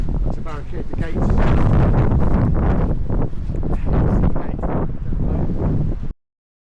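Wind buffets the microphone outdoors on a blustery day in West Wales, producing loud, uneven low-frequency rumbling gusts with crackling bursts for about six seconds before it cuts to silence.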